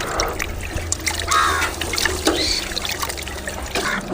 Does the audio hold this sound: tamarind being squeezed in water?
yes